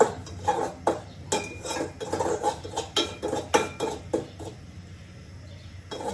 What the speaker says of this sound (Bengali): সুজিটা ভেজে নিচ্ছি ঘি দিয়ে, ঘিটা অনেক সুন্দর।